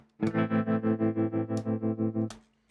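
Electric guitar strummed through a Strymon Flint pedal set to tube tremolo, a sustained chord pulsing in volume about six times per second before a second strum and a quick release, with no talking.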